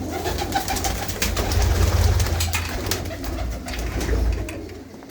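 Pigeons at a rooftop coop in a Punjab village, deep rolling coos repeating close by over a rustling background, several birds calling at once with no talking.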